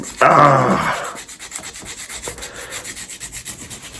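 Steady rasping strokes file against the skin of a finger in a quick, even rhythm, close up, after a brief burst of sound at the start.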